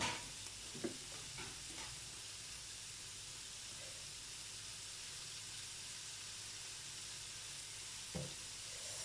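Potatoes fry in a pan with a faint, steady sizzle and hiss throughout, punctuated by a couple of brief clinks or stirring knocks near the start and end, quiet and close with no speech.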